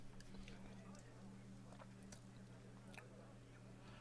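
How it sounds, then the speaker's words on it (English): Potato chips crunch between the teeth during an Assassin's Creed Unity gaming session. Faint, irregular crisp bites come close to the microphone over a steady low hum. "You thought the crunching noises I was making was the guy's neck? Yeah, no, I grabbed some chips."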